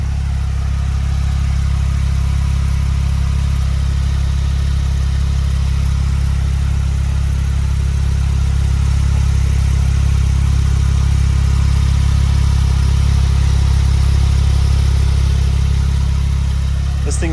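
A 2017 Porsche 911 Turbo S runs steadily at close range, a deep, even engine drone held at a constant level for the whole stretch with no clear revs or speech.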